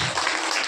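A church congregation claps their hands together during a Telugu sermon, a dense, steady burst of applause filling the whole short moment with no voices heard.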